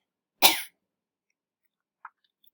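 A storyteller imitates a big creature's cough: one loud, harsh, close cough, then a small faint throat sound a moment later, with silence otherwise.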